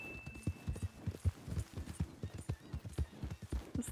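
A horse's hooves clip-clop in a steady, quick rhythm in Red Dead Redemption 2, with a close, even trot running the whole stretch at moderate loudness and no voices.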